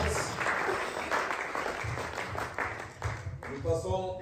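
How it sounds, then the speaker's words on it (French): A church congregation applauds during a pastor's consecration service in Almere, Holland, with dense, sustained clapping that fills the room while voices carry over it. "Klappen voor de glorie van God."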